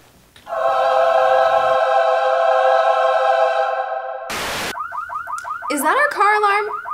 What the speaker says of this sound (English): Is that our car alarm?